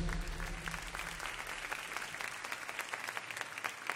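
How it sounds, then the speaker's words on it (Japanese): An audience at a Japanese freestyle rap battle tournament applauds, with dense clapping that holds steady and close for the whole stretch and a little crowd murmur underneath. "めちゃくちゃかっこよかったです、大きな拍手。"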